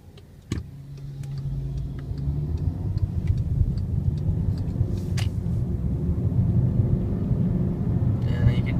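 A 2014 VW Jetta 1.8T SE being driven, with a low engine and road rumble that builds after a clunk and holds steady, plus small interior ticks and rattles; someone talks over it.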